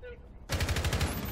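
Rapid automatic gunfire in a Rainbow Six Siege match, a fast, loud, evenly spaced burst that starts abruptly after a moment of quieter game ambience.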